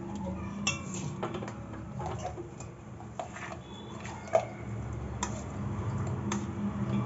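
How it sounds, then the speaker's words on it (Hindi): A spoon scooping ground chana dal out of a container, giving faint, close clinks and ticks scattered irregularly over a steady low background hum, with one slightly sharper knock midway. "ये देखिए मैं दाल निकालने जा रही हूँ, इसमें स्पून तो है इसमें"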